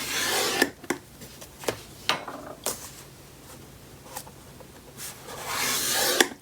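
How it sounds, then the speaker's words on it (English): A paper scoring tool drags across paper while creasing an 8.5 by 8.5 inch mini album base, giving a series of short scratchy rasps spaced irregularly, quiet and close. "I don't like this score tool. It's dragging too much."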